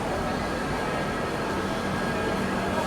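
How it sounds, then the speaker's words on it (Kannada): A Banaras–Rani Kamalapati Kumbh Mela special train rolls into a station platform with a steady, loud rumble and rushing noise that holds evenly throughout. "ಬನಾರಸ್ ರಾಣಿ ಕಮಲಪತಿ ಕುಂಭಮೇಳ ಸ್ಪೆಷಲ್ ಟ್ರೈನ್ ಎಂಟ್ರ್ ಆತ್ರಿ"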